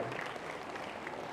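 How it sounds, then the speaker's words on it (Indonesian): Church congregation applauding together, with steady, dense clapping throughout a short burst. "Tepuk tangan dulu untuk Stefano ini."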